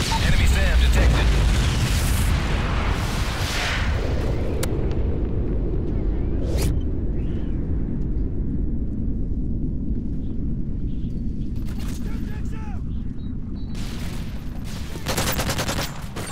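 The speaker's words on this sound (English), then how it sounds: "Friendly Moab incoming." A massive MOAB bomb blast in Modern Warfare 3 makes a loud, sustained rumbling roar that fills the whole stretch and slowly fades, with scattered gunfire and game voices on top.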